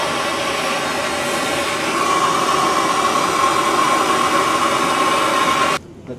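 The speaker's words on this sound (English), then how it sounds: "I'm just going to heat up the brass fitting. This is MAP gas I'm using" A MAP gas torch heats a brass brake line fitting on a 1929 coupe hot rod build, giving a steady, loud roaring hiss that runs unbroken for several seconds and then cuts off sharply.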